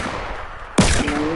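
Gunshots ring out abruptly after a quieter stretch, a loud sharp crack with a noisy tail and a faint tonal ring behind it.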